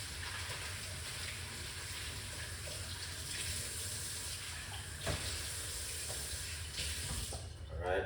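Pumpkin seeds being washed under a running kitchen tap, a steady close stream of water splashing into a sink with occasional brief clatters, continuing without pause and fading near the end.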